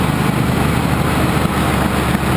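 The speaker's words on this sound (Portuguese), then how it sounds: "Várias motos. Tem Phaser 250, Ninja 300, Z250." A group of motorcycles, including a Phaser 250, a Ninja 300 and a Z250, rides together toward Santo Amaro. Their engines make a loud, continuous buzzing drone close by, with no talk.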